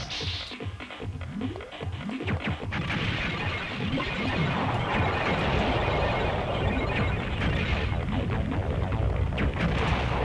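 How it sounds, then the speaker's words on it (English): Explosions from the action video game Silent Bomber boom and crash in quick succession, dense rumbling blasts layered with debris-like clatter that keeps up continuously without talk. "Explosions everywhere."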